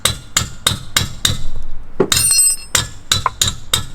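Sharp metal hammer strikes on a BMW during a brake change, about nine loud ringing clanks in an uneven rhythm with a brief gap midway, close by with no talk.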